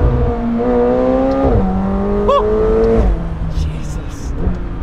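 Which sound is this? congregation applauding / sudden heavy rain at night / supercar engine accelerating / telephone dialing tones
supercar engine accelerating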